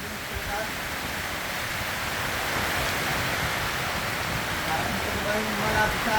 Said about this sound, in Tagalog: Ang lakas ng ulan eh, giniginaw na ako eh